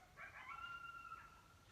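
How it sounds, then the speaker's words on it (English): A single coyote howls faintly in the distance outside at night, one rising and sustained cry lasting about a second over quiet background hiss. "There's a coyote out there."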